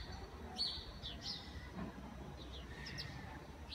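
A bird known locally as Abu Amira chirps outdoors in a few brief, high calls over steady background ambience, with no talking.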